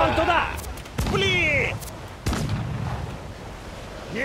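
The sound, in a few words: ship cannon fire in video game Assassin's Creed 4 Black Flag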